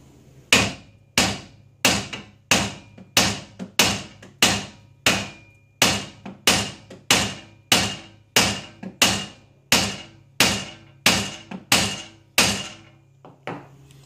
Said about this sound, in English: I'm going to try using the BFH right on the joint itself.